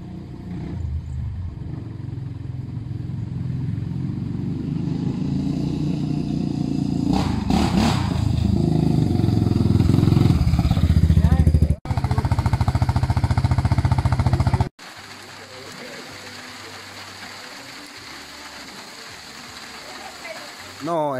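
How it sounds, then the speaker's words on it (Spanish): A motorcycle climbs a mountain trail in El Salvador, its engine droning loud and steady with heavy rumble and wind noise, cutting out sharply twice before settling to a quieter run. "voy a tratar de subir en la motocicleta de este amigo"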